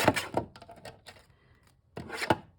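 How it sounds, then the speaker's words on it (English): A paper strip for a handmade card project being cut in half, heard as a few close, dry rasping snips in two short bursts separated by a quiet gap. "So I'm going to cut that in half here."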